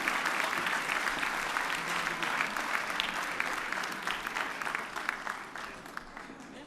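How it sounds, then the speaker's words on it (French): Studio audience at a French television game show applauds a contestant with dense, steady clapping, loud and sustained throughout, thinning slightly toward the end. "Allez, on l'applaudit bien fort."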